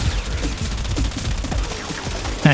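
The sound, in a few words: Felarx weapon firing at high rate in video game Warframe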